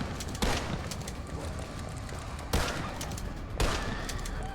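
A pump-action shotgun in a video game fires three sharp blasts at uneven intervals over a constant background of in-game noise.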